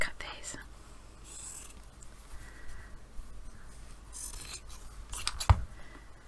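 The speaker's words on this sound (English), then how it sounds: "Let's just cut these." Scissors snipping small fabric pieces cut from an old garment: soft, close shearing and rasping strokes in a quiet room, with faint breathy whispering underneath.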